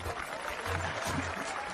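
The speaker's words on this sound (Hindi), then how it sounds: "तालियां बजाओ।" Clapping from a group in a Hindi-dubbed South Indian film scene, a steady, dense patter of many hands that stays fairly even throughout, with a low hum underneath and no clear voices.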